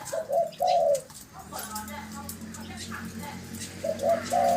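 Doves cooing in a loose series of low, hollow calls, loudest at the start and end, with softer calls and a steady hum in between; no talk is heard.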